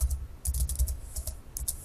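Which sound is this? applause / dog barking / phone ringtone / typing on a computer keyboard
typing on a computer keyboard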